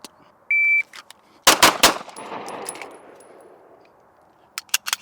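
Pistol shots fired in a fast pair at an outdoor range drill, loud and sharp with a ringing decay, followed by more rapid cracks at the end after a short electronic timer beep.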